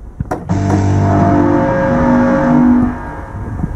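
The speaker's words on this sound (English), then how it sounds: "So you can hear a bit more reverb and kind of echo there, like it's in a cave more." Engine-like game sound effect with a cave-style reverb added, a loud sustained motor hum with harmonic drone that swells then trails off into an echoing tail, heard alone.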